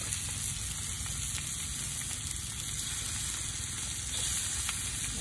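Katla fish rubbed with salt and masala frying in a pan, a steady close, loud sizzle with a constant hiss running unbroken throughout.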